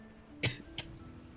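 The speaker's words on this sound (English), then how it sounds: "So whenever I cough, I have to turn my head to the right side." A person coughs twice, a sharp loud cough followed by a shorter, softer one, close up over a faint steady hum.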